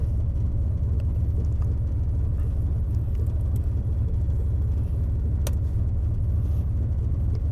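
A fifth-generation truck engine idling in a steady, low, close rumble throughout, with a few faint clicks and no talk.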